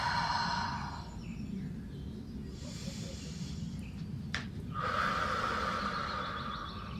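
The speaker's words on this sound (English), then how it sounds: "Breathing." Slow, deep breaths in a Wild Thing yoga pose, audible inhales and exhales close to the mic under a steady low hum, with no talking.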